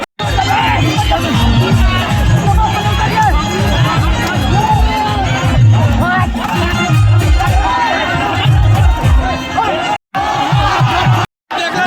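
A huge, loud crowd gathered around Khesari Lal Yadav's arrival at a naming ceremony in Siwan, with dense shouting, cheering and children's yells layered into a constant roar, and voices close by.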